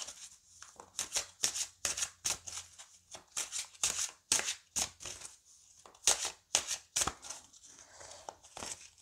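Oracle cards being shuffled by hand for a card draw, a close series of quick papery riffles and slaps in uneven bursts, fairly quiet with short gaps between, no speech over them.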